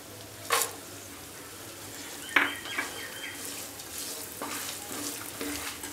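Peanuts, pumpkin seeds and cashews frying in a pan for spiced puffed rice, a soft sizzle with a few sharp stirring scrapes and clinks of a utensil against the pan, fairly quiet.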